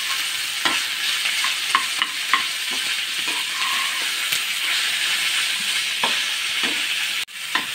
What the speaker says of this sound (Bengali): একটুখানি ভাজা ভাজা করে নিই।